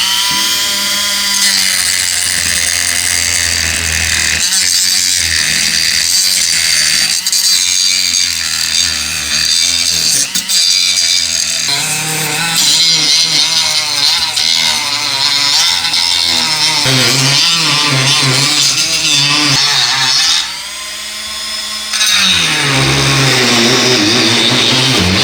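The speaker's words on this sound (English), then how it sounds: "To cut this, you'll be using your Dremel." A Dremel rotary tool cuts along a line through the lid of an explosion-proof blue forklift light, giving a loud, continuous high-pitched whine with shifting pitch as the bit bites, briefly dipping near the end before resuming.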